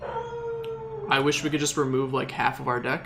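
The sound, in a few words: dog howling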